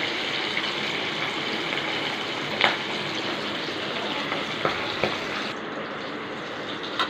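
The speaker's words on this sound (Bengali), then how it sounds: "তেল গরম হয়ে গেছে, আমি এবার মাছ ভাজা চাপাবো, মাছ দেবো এতে" Fish frying in hot oil in a kadai (wok) gives a steady close sizzling hiss, with a few sharper pops and spatters rising above it now and then.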